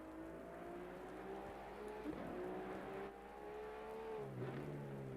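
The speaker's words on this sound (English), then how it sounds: "I sense some engine braking there" Race car engine in a GTM Cup sim racing game, held at a steady high drone with rising and falling pitch, then stepping down in tone as revs drop under braking near the end.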